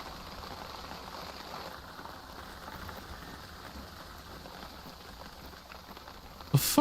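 Rain patters steadily on a tent in the hunting video game theHunter: Call of the Wild, a soft, even hiss of drops with a brief louder knock at the very end.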